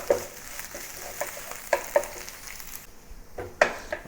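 Chopped chives stir-fried in a pan over medium-low heat, a soft sizzle under light scraping and clicking of a utensil against the pan, with a few sharper taps near the end.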